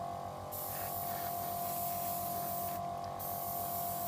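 Chipping fluid is airbrushed onto a model kit part as a steady, close, continuous hiss, with a brief pause near the start and another around three seconds, over a constant compressor hum.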